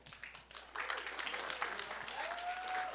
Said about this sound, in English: let's give one more time a round of applause to Jesus.